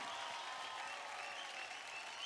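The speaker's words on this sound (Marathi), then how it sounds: "जोरदार टाळ्या होऊन जाऊ दे आपल्या मास्टर स्वरूपसाठी" An audience claps steadily for a dance master on a Marathi dance competition show, a dense, even wash of applause from a crowd heard at moderate distance for a couple of seconds.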